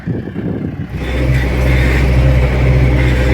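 Lovol 1054 tractor with a trailed KPS-4.2 bulldozer blade driving across a field, its engine starting quieter then settling into a loud, steady, continuous drone close by, with no talking.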